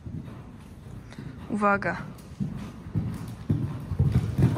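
Riders pass on horseback, and the hooves clip-clop in a steady rhythm at moderate distance. Excited voices talk and call out over the hoofbeats.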